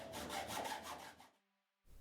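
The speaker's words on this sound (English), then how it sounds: "used a hacksaw to cut through the floor" A hacksaw cuts through the floor panel of a classic Mini during restoration, with fast, rhythmic rasping strokes close by, followed by a brief pause and another stroke starting.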